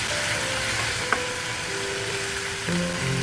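Marinated chicken fries with onions in a pan, giving a steady close sizzle and hiss throughout with a faint clink partway through.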